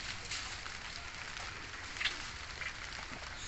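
Light rain beginning to fall on a small home garden beside a koi pond, a steady soft hiss of drops close by with a couple of brief louder patters, no voices.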